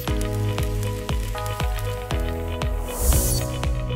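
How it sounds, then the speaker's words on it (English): A seam welding machine seals a metal lid onto a quartz crystal package, giving off a steady electrical hum and sizzle broken by regular ticking pulses about twice a second. "A metal lid is applied and seam welded onto the package, which is sealed."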